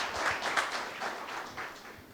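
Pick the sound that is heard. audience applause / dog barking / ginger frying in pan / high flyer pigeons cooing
audience applause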